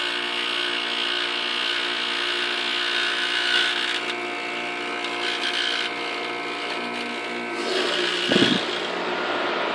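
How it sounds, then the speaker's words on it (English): A 1997 Lennox Elite series heat pump compressor runs during a defrost cycle, producing a steady, loud mechanical hum with a rattling edge, broken by a brief thump near the end. "It's the compressor that's just running."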